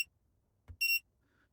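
A car reversing camera gives a single short, sharp electronic beep, high-pitched and clean, after a soft click, in an otherwise quiet room.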